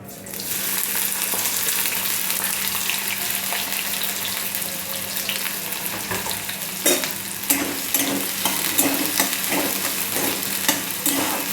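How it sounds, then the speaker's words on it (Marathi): Onions fry in hot oil in a kadhai for a peas and potato bhaji. A loud, continuous sizzle runs throughout, and sharp scraping stirs come in during the second half. "कांदा चांगला फ्राय करून घ्यायचा आहे कांदा आता आपलं फ्राय होत आलेला आहे"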